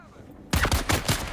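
Gunfire in the Dune Awakening game hits abruptly after a quiet half-second: four or five loud, closely spaced shots in a rapid rhythm, with no voices.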